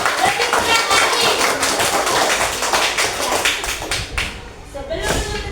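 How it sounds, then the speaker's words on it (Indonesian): Students in a classroom clap their hands together in a loud, dense burst that carries on for several seconds before tapering, with a teacher's voice heard over it. "Tepuk tangan dulu untuk kita semua."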